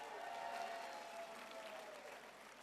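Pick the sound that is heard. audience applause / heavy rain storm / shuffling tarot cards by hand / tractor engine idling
audience applause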